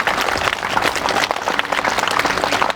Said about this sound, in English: Give a huge round of applause for those freedom fighters.